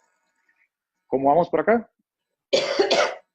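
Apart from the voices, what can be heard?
a person coughing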